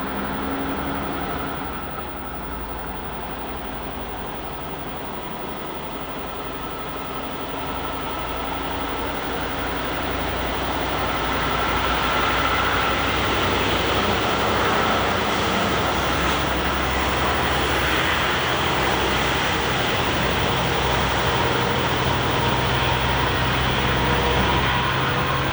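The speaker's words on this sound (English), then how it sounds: "you can get a sense for the number of trucks that come by and the sound." Trucks climb the hill on Kelly Road in the Rocky Mountains, a continuous engine drone and tire roar that swells louder as the vehicles draw closer, with no voices over it.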